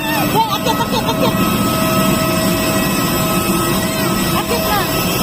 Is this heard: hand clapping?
no